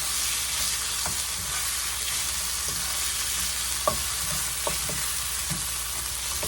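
Potatoes fry in a pan for a breakfast enchilada casserole, a steady bright sizzle running throughout with occasional soft scrape or stir clicks, close and continuous with no talking.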